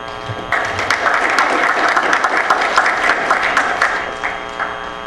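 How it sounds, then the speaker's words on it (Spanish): Audience applause at an evening tax lecture on general sales tax, a dense, steady round of clapping from a seated crowd that starts abruptly and holds at full strength throughout. "Fuerte palmas, por favor."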